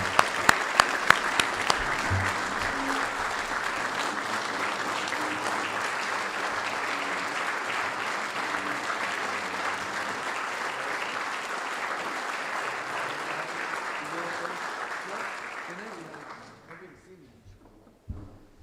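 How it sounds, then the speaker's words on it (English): An audience at an athletic hall of fame induction ceremony applauds the 2001 state championship baseball team: sustained, even clapping from a large crowd holds steady for about fifteen seconds, then tapers off. "Let's give one big round of applause for the 2001 State Championship baseball team."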